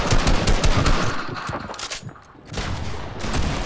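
Rapid automatic gunfire rattles through a Fortnite match, loud and close, in dense bursts with a brief lull before the shooting resumes.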